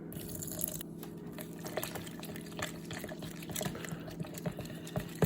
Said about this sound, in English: I'm gonna add a bit of water.